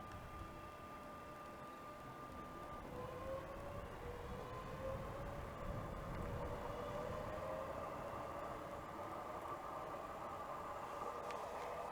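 A Class 365 electric train, unit 365 506, pulls out of Hitchin station on the East Coast Main Line, its motors rising in a whining tone as it steadily gathers speed.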